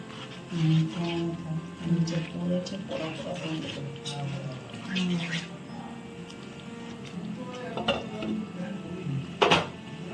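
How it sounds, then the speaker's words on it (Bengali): A spoon stirs a cooking pot of paneer curry with tomato and yogurt, giving light scraping and clinking of metal, then a lid goes on with a sharp clatter near the end, while someone talks over it throughout. "এবার নেড়ে কিছুক্ষণ ঢাকা দিয়ে রাখতে হবে"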